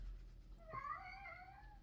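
An unhappy cat kept behind a closed window lets out a single drawn-out, wavering meow that rises and then trails off, faint but clear against a quiet room.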